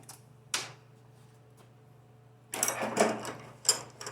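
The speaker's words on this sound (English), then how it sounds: "I'm not going to tighten this down with the gun, I'm just going to snug them down." Pneumatic impact gun snugging the pump bolts on a 4L60 transmission, a few short bursts of whirring rattle after a single sharp hit, set against a steady low shop hum, with no talk.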